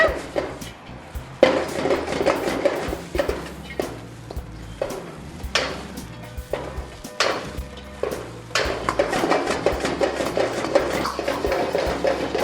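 Vegetable fried rice is stirred in a pan with a metal spatula, making repeated scraping clanks and knocks in an uneven rhythm, close and moderately loud.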